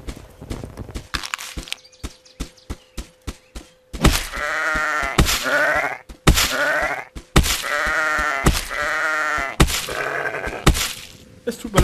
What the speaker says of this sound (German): Das Schaf.